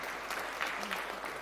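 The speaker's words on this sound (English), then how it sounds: "And let's just clap for them one more time." Brief, fairly faint applause from an audience honoring medalists at a breakfast gathering, steady clapping lasting just over a second.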